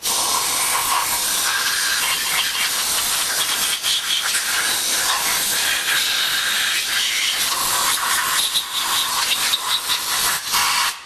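Compressed air blows in a loud, continuous hiss, close by, drying solvent off parts of a Neumann-style Meyer E 47 microphone being rebuilt; the steady blast wavers slightly but never stops.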